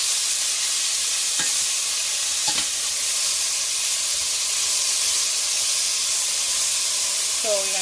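Caribbean green seasoning sautéing in butter sauce for steamed fish, giving a loud, constant, close hiss and sizzle with a few faint clinks.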